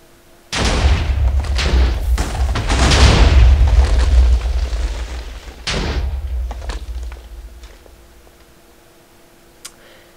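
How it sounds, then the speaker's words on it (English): A self-reloading 12-shot TNT cannon in Minecraft goes off in a burst of heavy booming blasts over a few seconds. A second cluster of explosions follows, then the blasts fade to scattered faint ticks and a last small pop. "TNT cannon."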